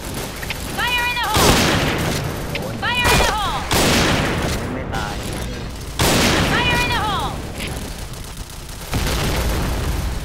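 Grenade blasts and gunfire from the Point Blank shooter game, with loud bursts of shooting and booms recurring throughout, mixed with game voice cues and a player talking over the action.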